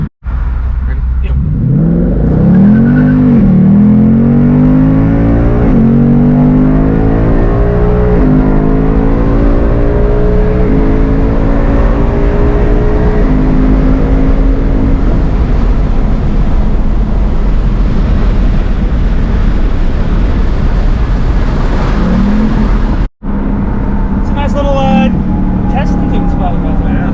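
A 2020 Ford Mustang GT Performance Pack on BMR lowering springs accelerates hard on a drag-racing stretch in Mexico, its loud engine note climbing in pitch through several gears before a sudden brief cut and renewed roar.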